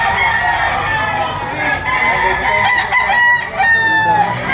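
A rooster crows loudly and close by, a long strained call followed by more crowing and clucking from other birds nearby.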